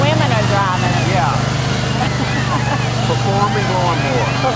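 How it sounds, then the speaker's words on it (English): Lawn mowers rumble by during a town parade, their engines giving a steady, loud, close drone while people chatter and call out over the noise. "Performing lawnmowers."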